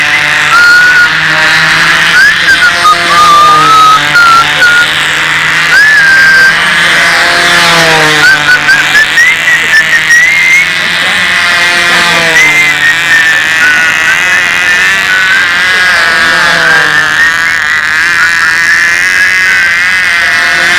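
A high-revving model airplane engine, a 10,000 RPM carrier-style control-line engine with three carburetors, screams loudly and steadily throughout with a rising and falling whine as it runs, dominating the scene at a flying field.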